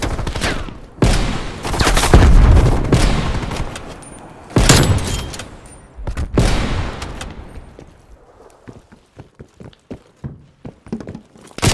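Grenade blast and bursts of gunfire in the shooter game Call of Duty Black Ops Cold War, loud close impacts early on giving way to rapid, sharp repeated shots that thin out toward the end.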